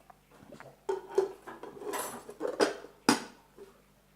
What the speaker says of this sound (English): Let me put the lid on.